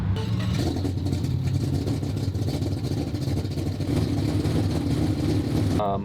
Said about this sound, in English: We're gonna go ahead and let it idle, warm up a little bit more